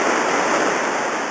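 Rapids on the Robson River in British Columbia rush loudly and steadily, a dense, unbroken roar of churning whitewater with no voices.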